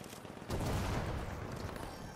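Model 1887 lever-action shotgun fired in The Finals, a loud close blast at the start of an aerial shot followed by a dense rumble of surrounding gunfire and explosions.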